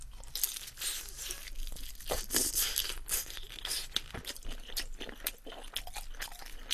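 A large fried Korean dumpling dipped in sauce is eaten up close, with crisp crunchy bites and tearing followed by steady moist chewing, quiet and without talk.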